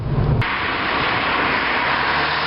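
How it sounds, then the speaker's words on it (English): A Skoda Fabia vRS estate's turbocharged engine surges under acceleration, a dense, steady roar heard from inside the car for a couple of seconds with no talking. "That's the turbocharger kicking in there."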